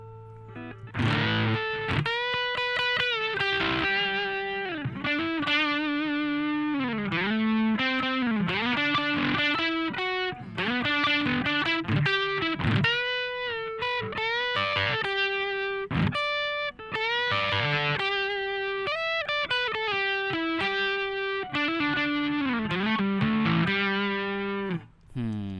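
Electric guitar played through a Super Overdrive distortion pedal, a steady run of sustained gritty notes and chords, close and loud with no talking over it.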